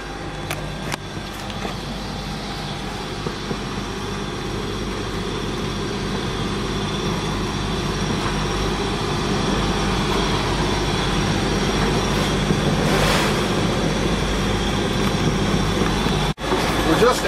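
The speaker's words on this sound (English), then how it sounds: "the combination of wind and tide in here, it is rolling" Wind and rough tidal water rush steadily as a boat enters Cape May Inlet, a broad continuous roar with low engine-like rumble that swells slightly louder through the middle and stays close and dense throughout.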